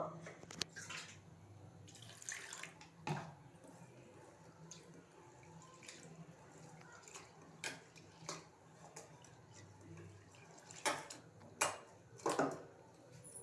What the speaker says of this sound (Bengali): সেটাকে ভালো করে জল দিয়ে ধোবো।